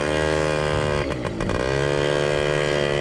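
A 1995 Yamaha PW50 mini motorbike runs on a track, its small two-stroke engine droning loud and steady with a brief dip in pitch midway before holding a constant buzzing idle again.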